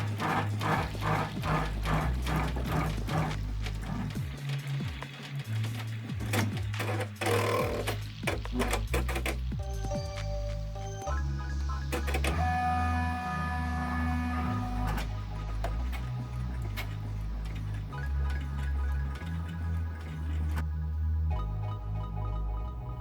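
An embroidery machine stitches a base stitch on t-shirt material held in a hoop, a steady fast mechanical chatter and hum running continuously with shifting rhythm, close and prominent.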